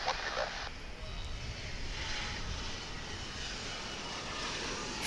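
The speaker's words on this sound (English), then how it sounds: "This will be an A300." An Airbus A300 jet takes off from DFW airport, its engine roar a steady, fairly distant broadband rumble that holds throughout without talk.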